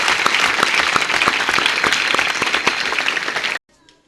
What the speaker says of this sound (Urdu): آئیں ان سب کے لیے تالیاں